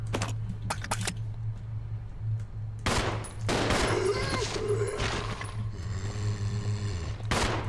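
Gunfire from the video game Resident Evil 0 HD Remaster, fought against zombies in a water treatment plant: bursts of sharp shots in several clusters, loud and close over a low steady game drone.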